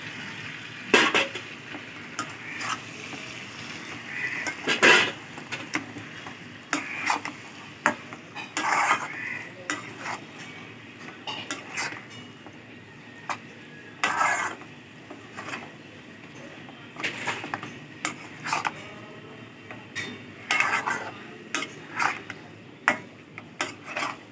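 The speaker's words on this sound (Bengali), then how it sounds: "এর মধ্যে ম্যারিনেট করা চিকেনগুলো এবার আস্তে আস্তে সব দিয়ে দেবো" Marinated chicken fries in a thick spice masala while a spatula stirs and clinks against the pot in irregular bursts over a soft background sizzle.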